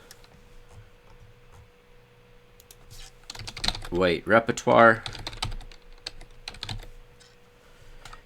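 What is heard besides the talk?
typing on a computer keyboard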